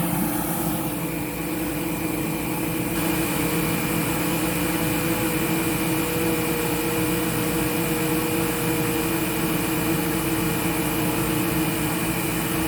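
A Sebo Dart vacuum cleaner runs with its brush roll switched on, giving a loud, steady motor whine and airflow roar that stays constant from start to finish, with no one speaking.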